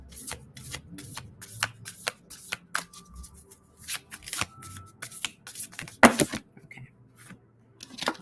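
A deck of Starseed Oracle cards being shuffled by hand, a steady run of soft, close riffling slaps and flicks with a louder snap partway through, faint room tone beneath and no talking.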